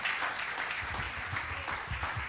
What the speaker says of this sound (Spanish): alabe a Jesús con ese aplauso fuerte